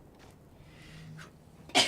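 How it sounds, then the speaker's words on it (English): A single sharp sneeze bursts out near the end after a quiet lead-in with a faint breath, close and loud. "I'm gonna tactically sneeze when I'm safe."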